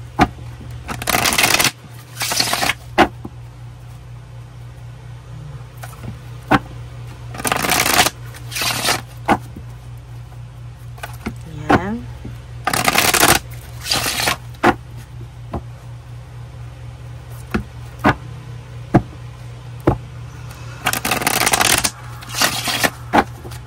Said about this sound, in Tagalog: balasahin lang muna po natin ito